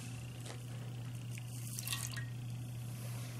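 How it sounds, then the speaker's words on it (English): Milk pours into a pie pan, just enough to cover the bottom, making a faint, soft trickle and drip over a low steady hum, with no talking. "Let's put some milk into our pie pan."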